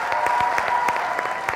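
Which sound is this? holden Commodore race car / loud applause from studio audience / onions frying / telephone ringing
loud applause from studio audience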